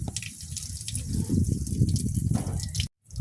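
Old coolant, full of moss but free of rust, drains from a vehicle radiator in a steady splashing, trickling stream close by, then cuts off abruptly near the end.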